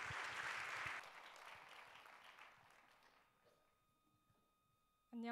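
A church youth congregation applauds loudly for about a second, then the clapping fades into a quiet room with scattered lingering claps.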